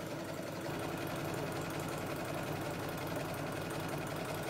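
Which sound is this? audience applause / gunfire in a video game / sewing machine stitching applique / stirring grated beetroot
sewing machine stitching applique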